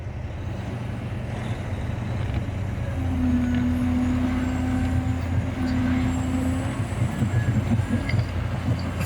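A truck pushing another truck stuck while loading fill, its engine droning and rumbling steadily throughout with a sustained tonal strain in the middle, heavy machinery noise up close.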